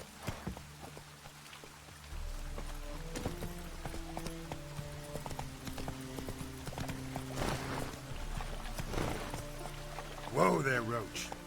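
Hooves of the horse Roach clip-clopping at a gallop in Witcher 3, a rapid steady rhythm under game voices and ambient patter, ending in a louder whinny-like burst.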